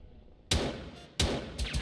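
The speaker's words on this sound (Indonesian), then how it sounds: "tembak-tembakan bang" Gunfire in the video game Perfect Heist 2, two loud sharp bursts of shots, each followed by a ringing decay, with a smaller hit near the end.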